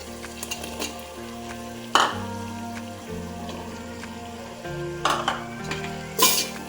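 Onion, tomato and ginger-garlic paste frying for mushroom biryani: a low steady sizzle with light stirring throughout, broken by three sharp clatters of utensils against the pan.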